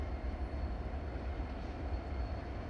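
A freight train in Mexico rumbles low and steady as it moves off, a faint, continuous rolling drone of rail cars without any voices.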